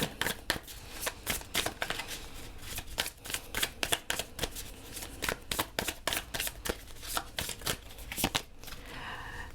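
A Light Seers Tarot deck is shuffled by hand, giving rapid, steady riffling card flutters close to the mic that continue for the whole stretch with only brief pauses.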